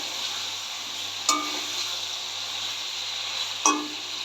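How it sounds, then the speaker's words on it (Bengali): Chicken pieces fry in a pan with a constant hissing sizzle, broken by two sharp scrapes of a spatula stirring, close and fairly loud with no talk. "চিকেনটা বেশ সুন্দর করে ভাজা ভাজা হয়ে গেছে"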